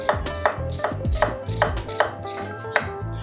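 A Global knife dices an onion on a chopping board in a kitchen, seven or eight crisp, evenly spaced chops at close range with no voices.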